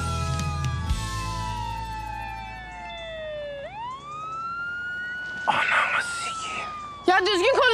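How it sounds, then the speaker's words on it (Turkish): An ambulance siren wails in rising and falling sweeps, loud and clear with a strong pitch glide, as people talk nervously over it in a dramatic scene. "Ya korkma, ambulans sireni sesi bu."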